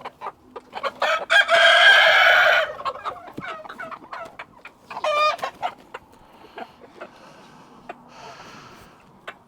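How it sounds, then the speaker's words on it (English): Chickens on a farm, with a rooster crowing loudly once near the start and hens clucking in short, scattered bursts. A second call rises midway over quiet background rustling. "Another beautiful hen."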